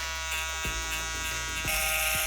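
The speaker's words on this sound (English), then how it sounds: "you can just kind of tap that with the electric shaver and it'll blend it out really nice" Electric shaver used to blend a skin fade during a barber haircut, giving a close, steady buzzing hum with a few brief dips as the clippers are tapped against the hair; no talking.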